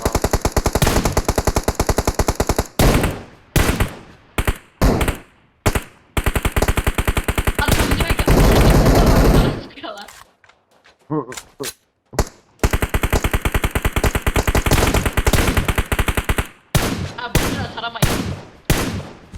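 PUBG Mobile gunfire comes in rapid automatic bursts, loud and close, with short pauses between strings of shots and a quieter stretch near the middle.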